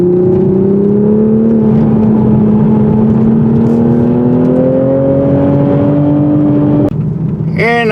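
A 2023 Toyota Supra with a six-speed manual revs up steadily through a corner. The engine note climbs, then cuts off sharply at a shift and picks up again, loud and close from inside the car.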